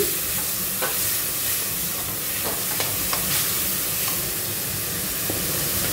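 Onion, ginger and local tomato are stirred as they fry in a pan, with steady sizzling throughout and scattered scraping and clicking strokes from the spoon close by.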